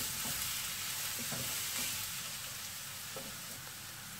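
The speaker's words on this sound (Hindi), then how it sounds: "इन्हें भी फुल फ्लेम पे 1 से 2 मिनट तक सौते कर देना है." Red capsicums sautéing in a pan over full flame give a steady, close sizzle and fry hiss, with a few light stirring clicks and scrapes throughout.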